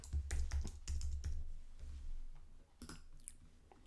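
Rapid clusters of soft keyboard clicks while text is typed into a computer, close and fairly quiet, with short pauses between bursts.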